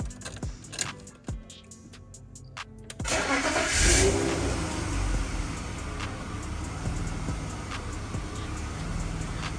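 A BMW E34 Touring engine cranks briefly with a few clicks, catches and settles into a steady, even idle that runs on alone, close and moderately loud.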